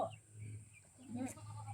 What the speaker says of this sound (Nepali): कत्रो हो भने 1 महिनाको पाठा